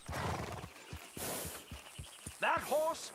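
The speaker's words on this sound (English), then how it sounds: "That horse will soil camp." A horse in Red Dead Redemption 2 snorts, blows and ends with a clear whinny, near and moderately loud over soft rhythmic hoof thuds and game ambience.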